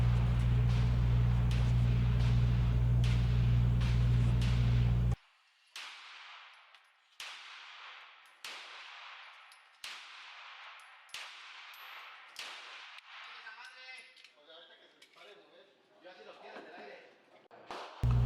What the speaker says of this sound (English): So here we're going to try and shoot 15 yards, let's say.